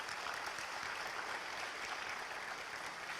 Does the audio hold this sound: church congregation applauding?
yes